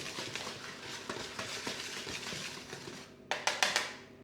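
Flour and baking powder being mixed in a bowl, a soft rhythmic scraping and stirring under a quiet room, ending with a few sharper taps of the utensil against the bowl.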